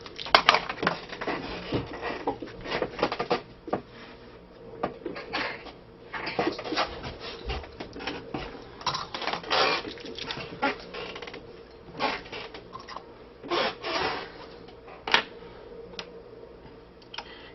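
A screwdriver works the screws out of a laptop screen assembly, producing irregular small clicks and ticks in close, quiet bursts with brief pauses between them.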